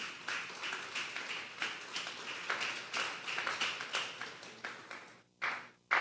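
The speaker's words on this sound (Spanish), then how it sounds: "Denle un fuerte aplauso al Señor" Scattered, fairly quiet clapping from a small church congregation during a Sunday service, uneven bursts of hand claps rising and fading in irregular rhythm, with a couple of sharper claps near the end.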